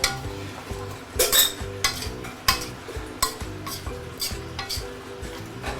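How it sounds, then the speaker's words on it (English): Garlic and ginger are stir-fried in a hot pan for a pork leg stew: a spatula scrapes and clinks against the metal in repeated strokes over a soft, continuous sizzle. "Stir fry them."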